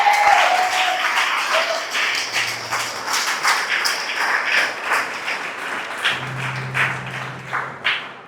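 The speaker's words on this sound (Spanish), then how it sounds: "Dale un aplauso al Señor." A church congregation at Iglesia Paz y Vida claps for the Lord during a service, a continuous wash of applause with distinct sharp claps rising through it, fairly loud and lasting several seconds.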